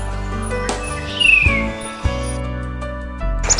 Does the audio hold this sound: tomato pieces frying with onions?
no